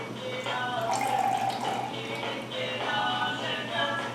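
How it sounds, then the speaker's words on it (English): Ice water is poured into a measuring cup, a light trickling splash with some clinking, steady for a few seconds at close range. "So I'm just going to pour the water in"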